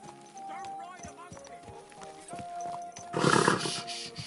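Horse hooves clip-clop at a walk among people in Kingdom Come: Deliverance II, soft irregular hoofbeats under a continuous hum and background chatter, rising into a louder noisy burst near the end.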